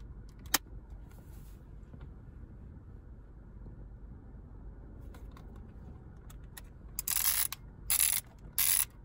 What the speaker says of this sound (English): I was supposed to push that tab to rewind the film.